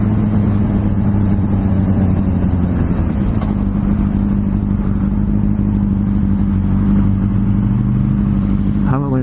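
A motorcycle engine runs steadily throughout while being ridden, a constant loud drone with low harmonic bands and wind buffeting, brief rising whine near the end.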